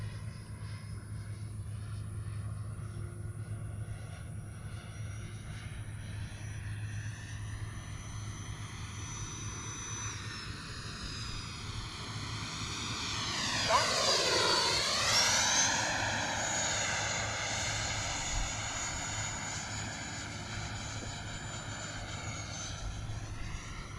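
Airplane engine during a low flyby, a steady drone that swells to a loud close pass with a sweeping pitch drop around the midpoint, then settles back to a distant hum.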